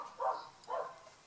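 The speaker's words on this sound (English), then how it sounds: "Next door's dog" A neighbour's dog next door gives two separate barks about half a second apart, moderately loud and somewhat muffled, with quiet in between.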